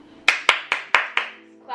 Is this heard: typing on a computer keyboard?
no